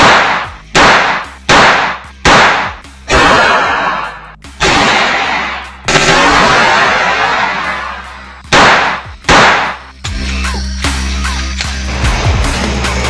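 A Battlearms Xiphos 9mm pistol fires a string of sharp, loud shots at close range, some in quick pairs and others spaced apart, each leaving a short echoing tail before the next.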